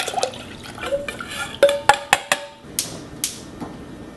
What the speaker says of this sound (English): Pour this into this pot again.